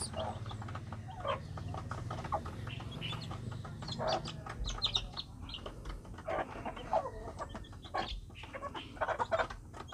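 Native chickens clucking in a rural yard during rainy weather, a steady scatter of soft clucks and brief calls at moderate distance over a low background rumble, with no talk.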